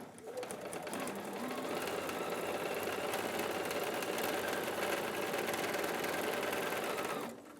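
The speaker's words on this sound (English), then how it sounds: "Back to the sewing machine." A domestic sewing machine runs steadily for about seven seconds, stitching a plaid quilt block with a fast, even whirring and mechanical chatter, then stops abruptly.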